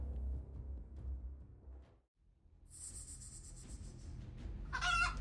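A mother hen with her chicks makes fowl calls, short bursts of clucking that start after a brief quiet gap and end in a sharper, louder call, over a low, faint background rumble.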